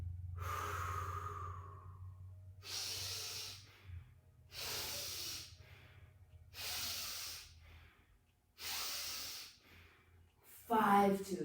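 Slow, deliberate exhales during a qigong breathing exercise: five long, soft breathy rushes of air, each lasting over a second with pauses between, close to the microphone, over a faint low hum, with a brief voiced sound at the end.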